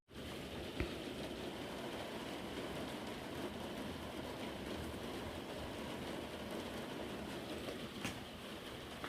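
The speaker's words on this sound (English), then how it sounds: "I love the sound of rain." Steady rain falls continuously, a dense even hiss with a few faint knocks and drips, no voices.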